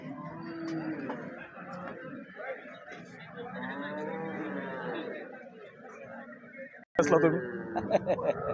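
Cows at a cattle market lowing in long, drawn-out moos, fairly close, with a crowd chattering and a voice or two talking over them.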